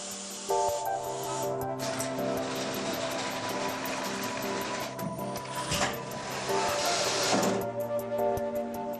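Miele S8 vacuum cleaner power cable being pulled out and drawn back in, a steady mechanical whirring and rubbing with tonal hum, surging louder at intervals as the cord retracts, close and continuous with no talk.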